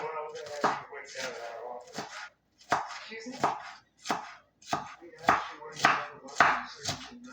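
A big onion being chopped on a board, with repeated rhythmic knife strikes in quick bursts separated by short pauses.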